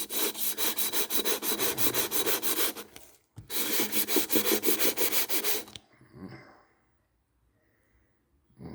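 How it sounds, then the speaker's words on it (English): A water pump housing surface is sanded by hand in a garage during a leaking-gasket repair, with loud, fast, rhythmic rasping strokes in two long runs separated by a brief pause, then quiet. "I don't really want to sand too much on this, otherwise I'm going to go too deep."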